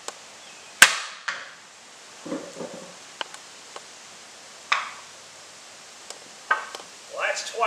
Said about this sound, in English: Another hit, 3-pound sledgehammer.